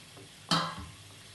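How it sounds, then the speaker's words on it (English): Sesame seeds tipped into boiling sugar water on a stove for beetroot dhokla tempering, a sudden loud sizzling burst that tails off over about half a second, close up with no talk. "As you can see the water boiling now, all the sugar has melted. I will add my sesame seeds in it."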